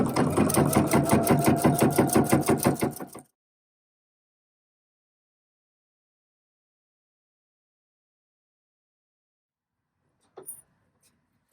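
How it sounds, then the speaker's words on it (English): A sewing machine stitching a onesie, a close steady whirring burst of about three seconds that stops abruptly, followed by long silence and a faint click near the end. "from here, I'm just going to start stitching"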